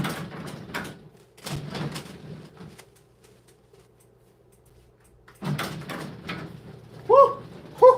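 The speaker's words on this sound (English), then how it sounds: "I gotta shut this door because it is like 15 degrees outside." A door being pulled shut on a cold night, heard as a few clunks and knocks with shuffling movement between them, then brief vocal sounds near the end.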